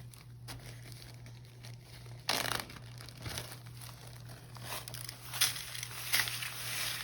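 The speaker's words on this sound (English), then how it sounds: "And now we'll add our sand." Dry sand poured into a small tabletop zen garden box gives a soft, crinkly pattering with a few sharper bursts, close and fairly quiet over a steady low hum.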